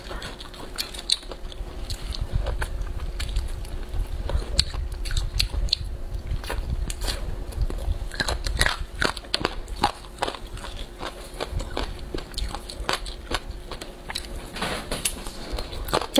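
Spicy cumin-flavored chicken bones are chewed and sucked up close, giving a steady run of crunchy bites, wet sucking and sharp clicks throughout with no talking.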